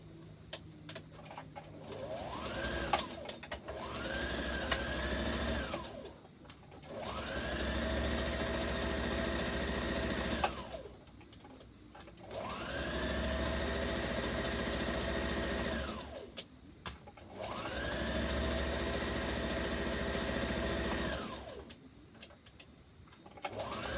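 A sewing machine runs in three long, steady bursts stitching the back seam of a Butterick 5559 dress at a half-inch seam allowance, close and clear with a whirring hum and brief pauses between runs, with no talk.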